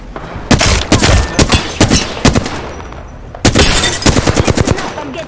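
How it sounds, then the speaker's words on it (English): Rapid automatic gunfire aimed at the player in a first-person video game, loud, close bursts of sharp cracks, then a short lull before another dense volley rattles out. "Getting shot at"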